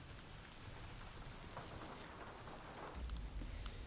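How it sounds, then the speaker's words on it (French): Steady rain pours down in the open-world video game Days Gone, a dense, even hiss throughout with low thunder rumbling more strongly toward the end, and no voices. "Alors, il pleut."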